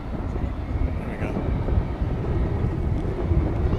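Airplane engines at DFW airport near the international terminal, a steady broad roar with wind noise buffeting the microphone, continuous with no talk.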